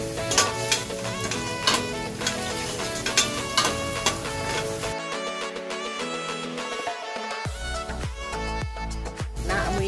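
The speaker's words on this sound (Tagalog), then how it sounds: "Maglagay lang po tayo ng konting langis. Pag medyo mainit na po, mag-iisa tayo ng bawang." Garlic sautés in hot oil while stirring scrapes and taps sound, for a beef caldereta dish, with steady sizzling over background music that drops out partway.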